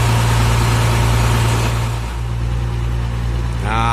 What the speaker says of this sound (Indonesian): Truk derek Mercy juga sudah mulai hidup.